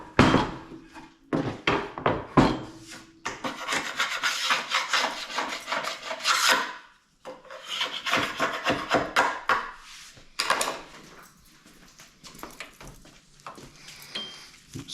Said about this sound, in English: Here what I'm doing is scraping off the excess glue that I never got wiped off before it dried.